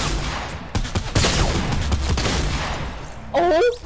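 Rapid gunfire bursts from the video game Fortnite crackle densely throughout, loud and continuous, with excited voices talking over the shooting.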